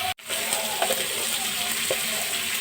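Potatoes fry in a pan with a close, steady sizzle, broken by a brief cut at the start and a few soft scrapes as they are stirred.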